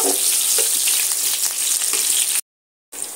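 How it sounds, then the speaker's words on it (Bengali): Chopped onions fry in hot oil for an egg biryani, a loud, dense, steady sizzle close by that cuts out briefly near the end before resuming, with no talk. "এই যে পেঁয়াজ কুচিটা আমি এর মধ্যে দিয়ে দেব, দিয়ে ভালো করে লাল লাল ভাজা করে নেব।"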